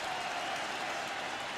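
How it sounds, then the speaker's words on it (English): A football stadium crowd at a Stony Brook at Syracuse college game roars on third and ten, a broad, steady wash of cheering and noise with no clear break. "Crowd making some noise."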